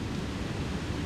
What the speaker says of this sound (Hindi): हवा चल रही तेज।